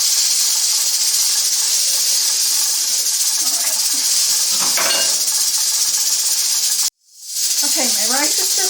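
Ground beef browns in a pan with a steady, loud hiss that runs unbroken for about seven seconds. After a brief cut, the sizzle returns with someone talking over it.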